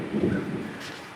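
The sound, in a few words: thunder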